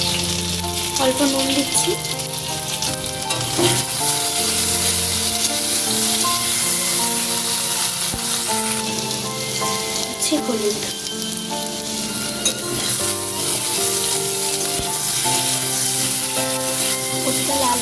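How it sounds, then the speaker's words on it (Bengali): Taro root frying in a pan for a prawn curry, a steady loud sizzle running throughout with occasional stirring scrapes, while a voice speaks briefly over it. "কচুটা লাল করে ভেজে নেব।"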